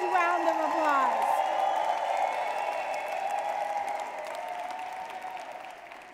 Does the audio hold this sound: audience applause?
yes